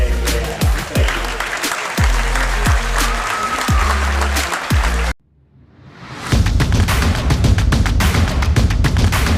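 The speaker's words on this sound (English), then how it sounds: "a big round of applause to our kids" Loud applause from a large crowd at a high school boys basketball game fills the gym, cut off by a brief near-silence before clapping surges back even stronger.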